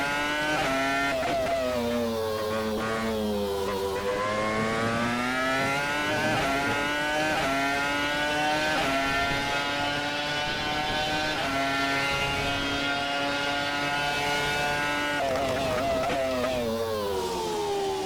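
A 2005 Renault R25 Formula One car's engine in a racing sim, a loud, steady high-pitched whine that climbs and falls with gear changes, close and continuous.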